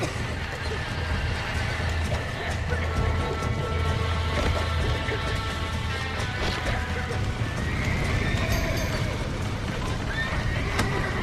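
Horses whinny and snort amid steady clopping hooves and a dense, busy background, with voices talking over the commotion, in the video game Red Dead Redemption.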